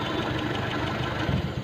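An engine idles steadily after each valve's clearance was adjusted slightly to quiet its ticking. The idle is a close, even, continuous rumble with no voices.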